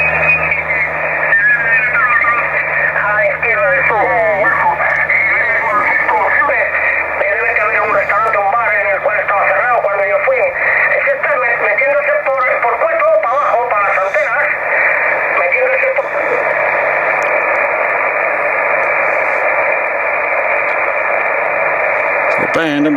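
An antenna under test, a Miracle Whip design, feeds a radio receiver whose band noise is a steady, flat hiss across the whole stretch. Faint warbling, garbled voice-like tones drift through the noise, with no clear speech.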